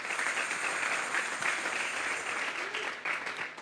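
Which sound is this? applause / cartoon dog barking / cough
applause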